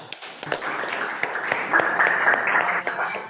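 A classroom audience applauds after a group presentation, a dense patter of many hands clapping for a few seconds, moderately loud with some louder individual claps mixed in.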